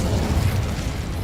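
A fire spell cast in the Hogwarts Legacy video game gives off a short, loud, low rumbling burst of flame that fills the whole moment, with no voices.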